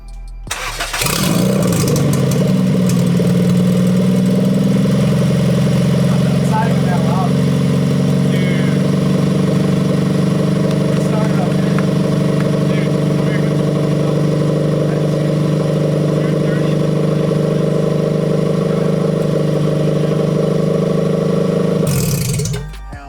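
A freshly rebuilt, fully built Honda LS VTEC engine with new plugs cranks, catches and settles into a steady, loud idle for about twenty seconds before cutting off.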